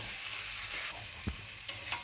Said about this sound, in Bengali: এটার মধ্যে আমি ওই সিদ্ধ আলুটা সবগুলো ঢেলে দেবো, দিয়ে আমি এটাকে ভালো করে নাড়াচাড়া করব।